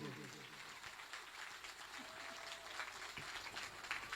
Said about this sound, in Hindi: आप लोग जोर से ताली बजा के स्वीकृति